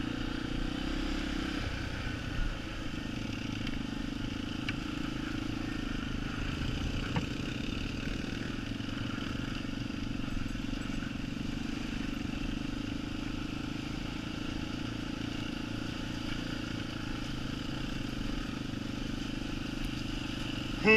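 Small Yamaha TTR trail motorcycles ridden along sandy single track, a steady low engine drone held at an even, moderate level with faint clatter and no talk.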